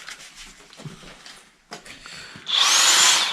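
A DeWalt impact wrench works at close range, first with scattered mechanical handling sounds and then a loud, sustained high-pitched whir in the last second.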